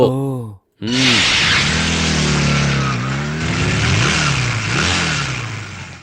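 Motorcycle engines rev loudly and continuously in a race scene from a South Indian film, a close roaring drone with rising and falling pitch sweeps, briefly cut at the start, amid a few vocal sounds.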